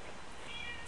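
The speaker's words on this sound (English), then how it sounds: "That's my cat." A pet cat gives a faint, brief meow near the end of the short moment, alone with no talk, over quiet indoor room noise.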